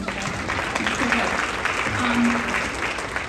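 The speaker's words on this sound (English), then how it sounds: "Can you give them a round of applause?" Applause from a school band audience for the percussion section's toms and shaker, a steady broadband patter of many hands lasting the whole span with a faint voice or tone underneath.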